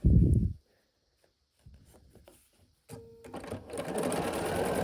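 Sewing machine stitching quilt pieces together in bursts: a loud run at the start, then short uneven stitching spurts after a pause, ending in a longer steady whirring run.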